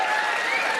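Brief burst of steady audience applause from a comedy show crowd, even and fairly loud, with no voices.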